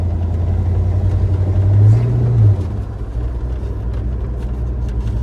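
A 1971 Oldsmobile Cutlass engine and exhaust rumble steadily while driving at highway speed, with a brief swell in low-pitched engine note mid-clip before settling back to an even drone.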